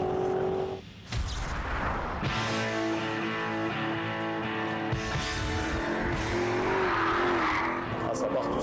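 A heavy 1.8-tonne Maserati GranTurismo S slides for a long stretch, its tires squealing loudly and steadily over a roaring engine, with brief speech heard near the start.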